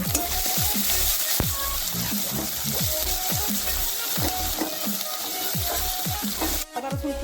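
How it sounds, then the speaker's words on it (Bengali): Chopped garlic and grated ginger sizzle steadily in hot oil with whole garam masala and a bay leaf, a loud continuous frying hiss broken by small crackles and stirring scrapes, with no talking. "উপরে দিচ্ছি কুচিয়ে রাখা রসুন গ্রেড করা আদা এটা ভেজে নিচ্ছি"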